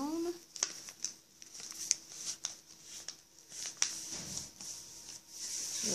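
Paper being creased and folded by hand while making a paper jet fighter, a run of soft crinkles and short sharp creasing taps, close by and fairly quiet, with a person talking at the start and faintly at times.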